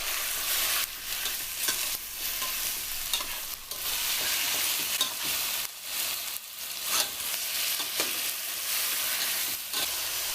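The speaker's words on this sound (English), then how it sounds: "Add in boneless, skinless chopped chicken breast that we prepped also earlier" Chopped boneless, skinless chicken breast sizzles loudly in a hot pan for a curry, a steady bright frying hiss broken by repeated scraping stirs, close and with no voices.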